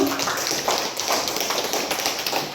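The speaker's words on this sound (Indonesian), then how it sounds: "Oke Bapak Ibu, aplaus untuk kita semua." Audience applause at a teachers' training session closes a presentation: a dense, steady patter of many hands clapping throughout, fairly close and even, with no talk over it.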